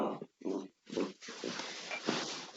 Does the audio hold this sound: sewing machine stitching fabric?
no